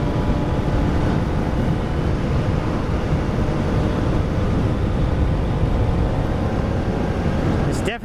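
A 2023 Kawasaki ZX-4RR motorcycle engine under way while riding, a steady loud dense roar with heavy wind rush that holds unbroken throughout, cutting off abruptly at the very end.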